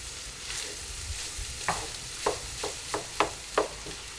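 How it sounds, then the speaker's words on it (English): Rice is stirred into a kielbasa stir-fry in a skillet, a soft frying sizzle broken by a series of close spoon scrapes and knocks, about six in quick succession toward the end. "I'm going to start putting that into our skillet. And we want to kind of mix it in."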